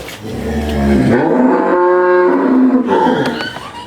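A Friesian-Gir crossbred cow on a farm gives one long, loud, close moo that swells and holds steady for about two seconds before trailing off.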